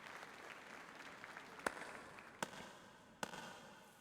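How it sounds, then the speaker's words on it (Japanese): Clapping applause in the video game Ash Echoes: a soft, steady patter of hands under a low noise bed, with three sharp, louder cracks spaced about a second apart. "I don't like that clapping."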